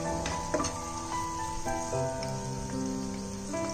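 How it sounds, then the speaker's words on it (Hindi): Paneer chilli sauce with tomato ketchup and soy sauce sizzles in a pan while being stirred, a soft, steady crackle broken by light scraping strokes. "इसको अच्छे से मिक्स कर लेंगे।"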